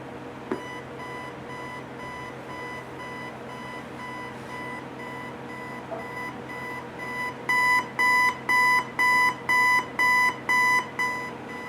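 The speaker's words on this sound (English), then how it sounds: "I'm going to go ahead and set the alarm" A General Electric 7-4639 clock radio alarm beeps faintly at first, then sounds loud, rapid pulsed beeps repeating steadily near the end, with no talking.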